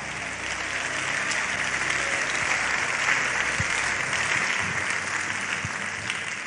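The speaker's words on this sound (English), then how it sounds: "just clap" A church congregation clapping together during worship, a dense, sustained roar of hands filling the room at steady loudness throughout.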